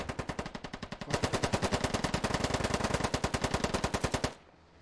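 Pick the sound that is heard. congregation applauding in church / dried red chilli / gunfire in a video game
gunfire in a video game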